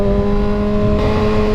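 Kawasaki Ninja ZX6R motorcycle engine held at about 7,000 RPM with noticeable vibration: a loud, close, steady high-pitched engine drone with strong tonal harmonics, continuous for the whole short stretch.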